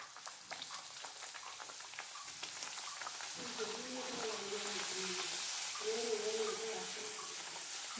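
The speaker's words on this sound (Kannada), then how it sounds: "ಈಗ ಒಂದೊಂದೇ ಪೂರಿಗಳನ್ನ ಬಾಣಲೆಗೆ ಹಾಕ್ಕೊತಾ ಇದ್ದೀವಿ" Puris dropped one at a time into hot oil in a wok give off a soft, steady sizzle that grows a little louder, with faint humming tones and kitchen clatter behind.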